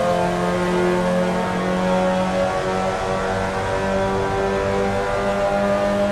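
Race car engines in a sim racing game at Suzuka East, a steady, loud, continuous drone of several cars revving and running close together, with no talking.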